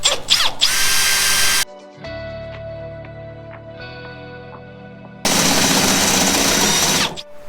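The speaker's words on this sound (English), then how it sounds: "drill it with a step drill" A power drill with a step drill bit whirs loudly in two bursts through trailer metal, with a quieter, lower mechanical hum between them.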